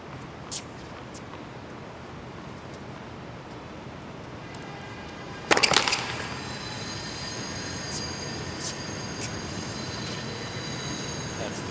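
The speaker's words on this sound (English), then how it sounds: "the train tracks are right behind Armstrong" A train rumbles along tracks behind the tennis stadium at the US Open, a steady distant roar with a brief burst of screeching wheels midway and faint higher squeals scattered throughout.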